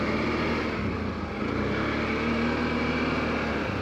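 A 2024 CF Moto Cforce 1000 Touring G3 ATV ridden off-road, its engine a steady, loud, close droning roar that holds without pause throughout.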